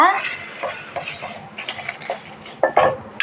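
Lumps of asafoetida roasted and stirred in a pan, giving a run of light metallic scrapes and clinks of the spoon against the pan, fairly soft and intermittent with brief louder knocks near the end.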